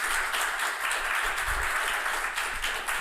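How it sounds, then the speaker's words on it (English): A lecture audience applauds a speaker as she is introduced, a dense, steady wash of many hands clapping without a break. "Please give her a warm applause."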